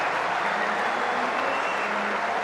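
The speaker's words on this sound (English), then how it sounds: "And a good cheer too from a good crowd here" A good-sized crowd at a 2007 New Zealand versus Australia one-day international cricket match cheers and claps, a broad steady roar of applause that stays loud and even throughout.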